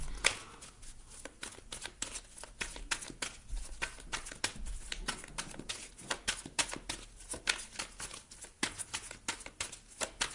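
Tarot cards shuffled and laid out during a reading, a steady run of close, crisp riffling snaps and soft slaps with no voice.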